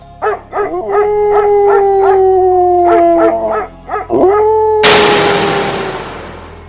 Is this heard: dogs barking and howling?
yes